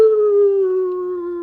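A human voice imitates a dog's loud, ugly howl: one sustained, drawn-out wail that sinks slowly in pitch, close and loud, with nothing else heard.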